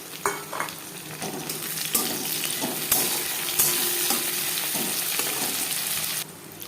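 Onions fried until reddish sizzle steadily in hot oil for chichinga bhaja as tomato goes in, with repeated spatula scrapes and stirring knocks over a continuous close crackle.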